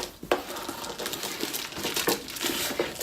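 Paper packing crinkles and rustles in irregular bursts while an Owlcrate subscription box is unboxed, close to the microphone, with no talking.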